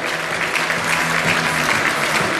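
An audience at an author fashion salon event breaks into dense, steady applause that holds loud and continuous throughout.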